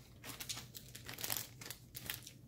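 Plastic bag being sliced open with scissors to make a small two-to-three-inch cut, heard as soft close crinkling and crackling bursts, faint and without talk.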